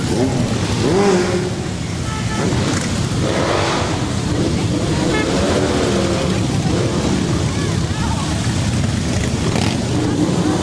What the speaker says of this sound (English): Ain't nothing like a Harley Davidson motorcycle